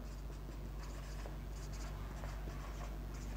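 Writing on a board during a biology lecture on the endoplasmic reticulum, steady scratchy strokes and light taps continuing throughout, close and moderately loud with a low hum underneath.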